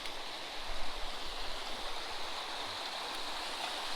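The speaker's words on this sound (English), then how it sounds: "we come to this natural water slide right here, this bedrock under the water," Water rushes over a smooth bedrock natural water slide in a stream, a steady close hiss and gurgle that holds evenly for several seconds with no talking.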